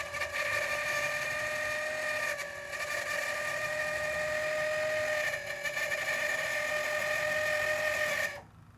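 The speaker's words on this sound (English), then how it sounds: "the actuator piece that does the tilting, that works fine." An electric actuator motor tilts its mechanism with a steady, even whining hum at moderate volume, running continuously for several seconds before stopping abruptly.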